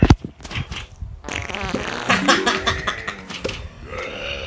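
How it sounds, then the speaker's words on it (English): A cartoonish farting sound effect from the video game Plants vs Zombies 2 blares loudly in a short burst, then trails into a longer, wobbling spluttering fart over busy game audio. "I love that farting sound effect."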